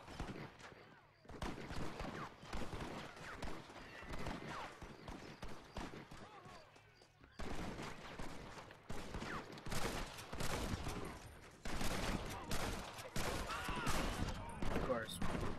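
Gunfire in Red Dead Redemption multiplayer, many rapid cracking shots in dense clusters broken by brief lulls, with hoofbeats and voices talking underneath.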